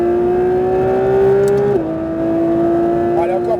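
A Porsche 992 GT3 RS on a track at Le Mans runs at full throttle, its engine a steady, loud, high-pitched tone that dips briefly at a gear change and then climbs again, heard from inside the car.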